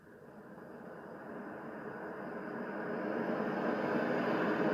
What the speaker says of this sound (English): your ocean sounds